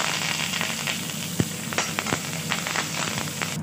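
Mustard and fenugreek seeds fry in hot oil for a simple kadhi, giving a steady close sizzle with scattered sharp pops and crackles throughout, with no talking.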